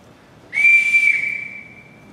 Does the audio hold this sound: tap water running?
no